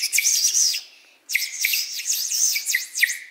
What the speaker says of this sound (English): Now, birds sing.